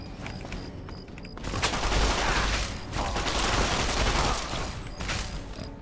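Dense bursts of enemy gunfire from Fallout 3 on a very hard playthrough, sustained rattling rounds swelling loud after a quieter opening and continuing for several seconds.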